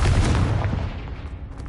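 A fiery Confringo spell blast in Hogwarts Legacy bursts out at the start and rolls into a loud, booming rumble that gradually fades, with no talking.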